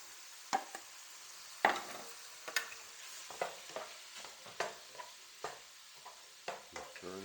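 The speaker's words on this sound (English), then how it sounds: "Now that that's cooking, we're going to add in our green peppers, and we're going to add in our onions" Green peppers and onions fry in a pan while a utensil stirs them, giving a steady low sizzle broken by a dozen sharp scraping knocks at an irregular pace, close up with no voices.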